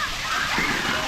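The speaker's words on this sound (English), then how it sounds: "There are bucket times where the water dumps out on the top and it does pour out." Water dumping out of a tipping bucket at Fischer Park in New Braunfels, Texas, pours and splashes in a loud, continuous rush, swelling midway through the brief moment.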